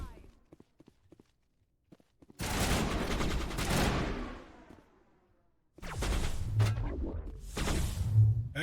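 Gunfire in the Mass Effect video game, two long stretches of rapid, dense shooting separated by a quiet gap with a few faint ticks, loud and close, with a voice speaking between the volleys.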